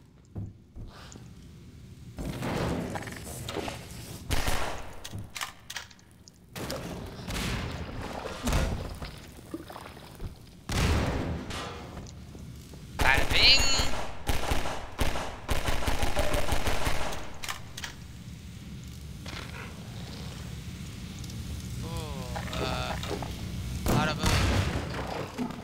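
Video-game gunfire crackles in bursts and single shots, loud sharp reports scattered irregularly among game sounds, with people talking over much of it.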